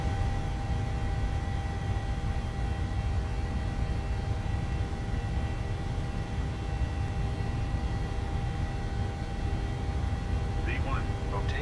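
Steady broadband roar of an airliner's engines during the takeoff roll in a flight simulator game, continuous and fairly loud throughout, with a voice talking over it.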